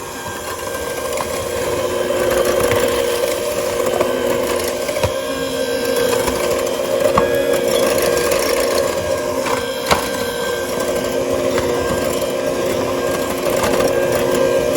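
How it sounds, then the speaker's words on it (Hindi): An electric grinder whips eggs with two cups of regular sugar for a cranberry recipe, giving a steady, close motor whir with a constant hum that runs unbroken for about fifteen seconds. "इसको ग्राइंडर लेके इसको अच्छी तरह से मिक्स करना है"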